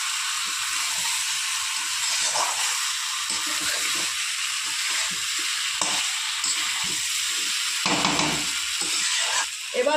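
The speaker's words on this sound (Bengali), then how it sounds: "ভালো করে আলু আর ফুলকপিটা আমি একটু কষিয়ে নেব।" Potatoes and fried cauliflower sautéed in a pan for an egg curry: a steady sizzling hiss runs throughout, broken by frequent scraping stirs.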